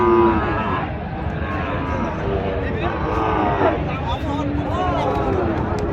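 Bull calves at a busy cattle market let out drawn-out moos and bellows under loud, continuous crowd chatter and nearby talking.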